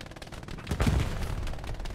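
Burst of MG42 machine gun fire in the Hell Let Loose video game, a rapid rattling volley swelling loud in the middle and trailing off, heard without talk.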